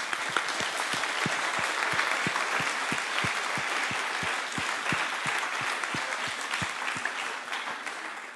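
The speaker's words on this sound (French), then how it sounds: "On peut t'applaudir." Sustained applause from a conference audience after a talk about boosting careers through social media, dense steady clapping with no voices over it.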